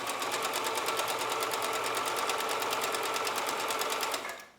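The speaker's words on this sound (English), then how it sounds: "I'm gonna go over it with my sewing machine" A sewing machine stitches a homemade fabric face mask in one fast, continuous run of rapid even needle strokes, close and loud, stopping abruptly at the end.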